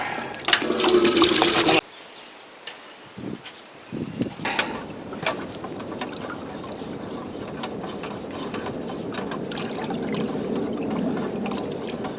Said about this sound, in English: I'm just gonna pour about a gallon in here.